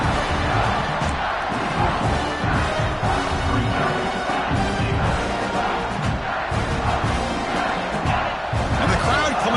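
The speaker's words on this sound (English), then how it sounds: "the crowd coming to life here" A football stadium crowd roars and cheers as the defense defends the red zone, a dense, loud, continuous wash of voices that stays steady from start to finish.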